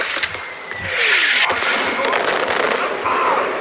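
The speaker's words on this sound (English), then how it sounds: "someone's mortaring one of them" Mortar fire in Far Cry 4, with a whistling incoming shell followed by loud booming explosions and crackling debris amid busy combat noise.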